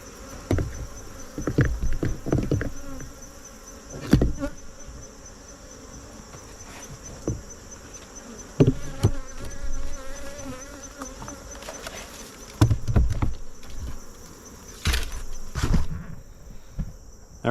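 Honeybees at open hive frames during a fall feeding and oxalic acid treatment make a steady insect drone, with sharp handling knocks and clatters of frames rising over it at intervals.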